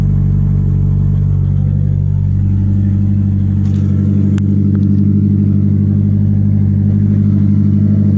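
Second-generation DSM car engine idling loud and close through an open downpipe, a steady raspy rumble with a few faint clicks and no talk.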